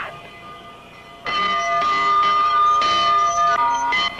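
A town bell rings out at night, starting abruptly after a quiet lead-in and continuing as a loud, ringing series of overlapping metallic tones, alone without talk.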